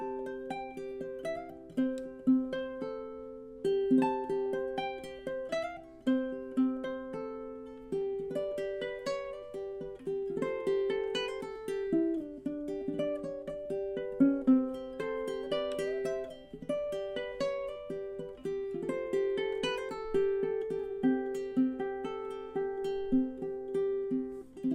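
Ukulele performance of a piece, a gently picked melody over steady strummed and plucked chords, moderately quiet and close, continuous for the whole stretch with no voices.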